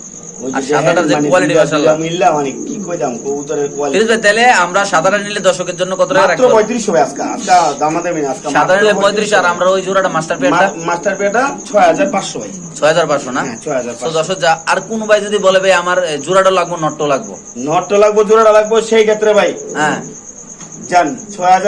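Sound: male pigeon cooing

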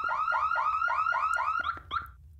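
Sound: car alarm in video game Ghost Exile

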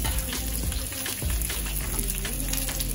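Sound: mixed vegetables stir-frying together on high flame

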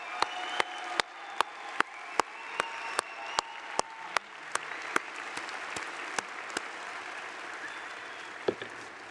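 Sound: audience applause at a conference

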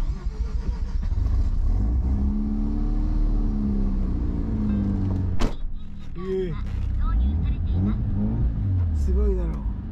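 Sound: Mazda RX-7 car engine revving

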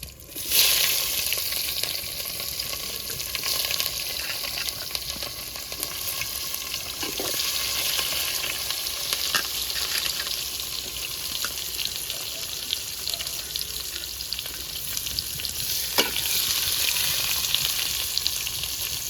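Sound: cumin seeds and onion frying in oil for mutton curry

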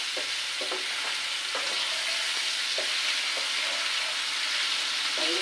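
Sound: vegetables with salt and turmeric stir-frying in a pan

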